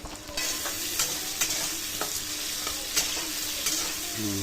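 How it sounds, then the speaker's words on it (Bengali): Potatoes fry in hot oil with nigella seeds, a constant sizzle broken by regular scraping strokes of a spoon as they are stirred, close and moderately loud. "দেখুন শুধু আলুগুলো তুলে দিচ্ছে দিয়ে কিছুক্ষণ ভাজা হবে"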